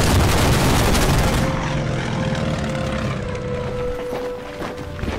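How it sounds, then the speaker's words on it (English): A P-40 propeller fighter plane in the Pacific War strategy game Order of Battle drones past with a loud, steady engine roar and buzzing tone that gradually fades, with no talking. "oh, there's a plane flying back. Let's send my P-40 over and shoot this."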